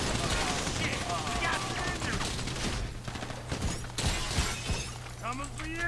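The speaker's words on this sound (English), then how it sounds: "Oh, I don't have a gun out and they're shooting at me." In GTA V Online, enemies open fire around a house, with rapid cracking gunshots, shattering impacts and rattling bursts close by over game noise and intermittent talk.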